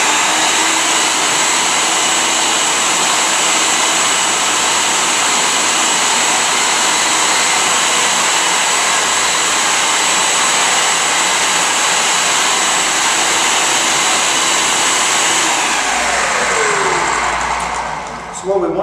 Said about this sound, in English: we're going to take the bananas, and we're going to add those right to our food processor.